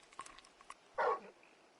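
Torgal, the large dog companion in Final Fantasy XVI, gives a single short, muffled bark or whimpering yelp, faint and close, over quiet game ambience with soft scattered sounds before it.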